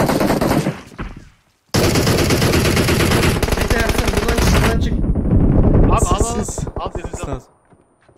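Loud rapid bursts of automatic gunfire in the mobile video game PUBG Mobile come in a long sustained stream with brief pauses, followed by a few scattered shots, while players talk over the shooting.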